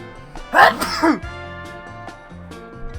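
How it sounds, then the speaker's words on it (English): A single sneeze bursts out close to the mic, with a sharp catch of breath, while music plays softly underneath. "I might sneeze here a second"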